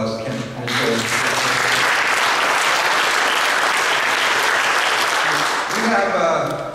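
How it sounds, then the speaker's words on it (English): A crowd at a Veterans For Peace anti-nuclear event in Portland breaks into loud, sustained applause after a brief moment of speech, clapping steadily for several seconds before fading. "So I want to give both of them applause."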